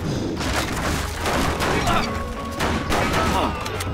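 Rapid bursts of golden pistol fire in the action video game Stranglehold, loud and dense, with booming impacts and clattering debris around the shots throughout.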